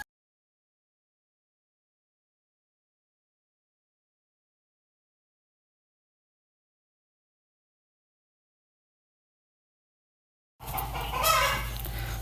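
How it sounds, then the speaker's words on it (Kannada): Chicks in a chicken shed, a short burst of busy peeping and clucking that starts abruptly near the end after a long silence, fairly close and steady. "ನೋಡಿ ನಮ್ಮ ಕೋಳಿ ಮರಿಗಳೆಲ್ಲ ಚೆನ್ನಾಗಿ ಆ್ಯಕ್ಟಿವ್ ಆಗಿದೆ"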